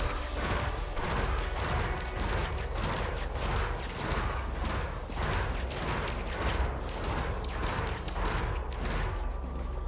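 Ship weapon fire in the space game Elite: Dangerous striking a target vessel's cargo hatch, a dense run of rapid mechanical impacts and crashing bursts that carries on steadily and loudly through the whole stretch, with no talk.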